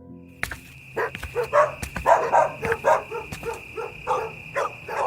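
A dog barks in a rapid, loud series of sharp, close barks and yips, continuing insistently with short gaps between them.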